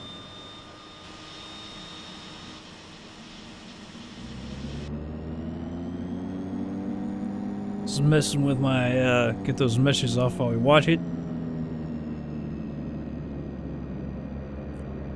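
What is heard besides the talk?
DHC-6-300 Twin Otter left engine starting, FSX video game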